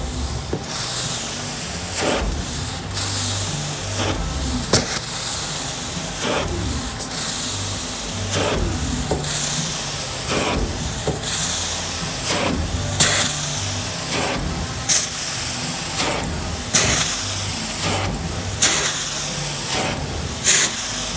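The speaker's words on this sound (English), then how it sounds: "we're going to rinse this carpet now" Carpet cleaning machine rinsing a pub carpet, a steady loud hiss and suction roar with repeated sharp spray strokes pulsing every second or two, close and continuous.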